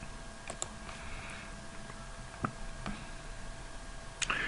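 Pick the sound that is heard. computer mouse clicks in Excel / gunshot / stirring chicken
computer mouse clicks in Excel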